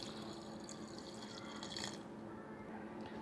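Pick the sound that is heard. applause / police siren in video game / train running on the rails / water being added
water being added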